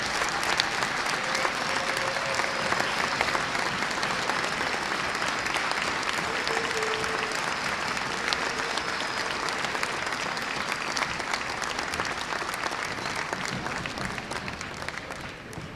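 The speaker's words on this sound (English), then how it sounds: "Please join me in one final round of applause for these outstanding gentlemen" Long, steady applause from an audience at a high school basketball Hall of Fame induction ceremony, dense clapping holding evenly for over fifteen seconds with a slight fade at the end.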